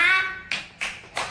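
Three sharp hand claps of the Tepuk Indonesia clap game, spaced in a quick even rhythm right after a sung or spoken tone, close and crisp.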